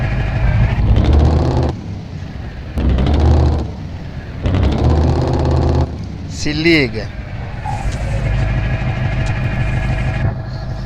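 DAF XF 8x4 truck with a V8 770 engine in the Truckers of Europe 3 video game, roaring loudly in repeated surges that rise and fall, with someone talking over it and some tonal game sounds partway through.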